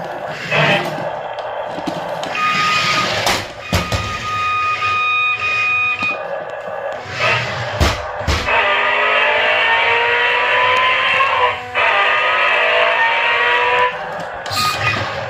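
A Veenix V991 transforming RC toy car's electronic engine sound effect, revving and roaring with tire-squeal and racing noises, playing continuously and loud with a few abrupt clicks.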